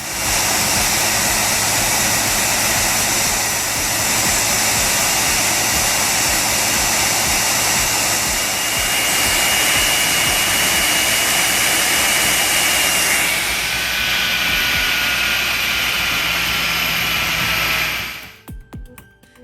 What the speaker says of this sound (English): The sheer force, the mist of water swirling around, and the powerful jet roar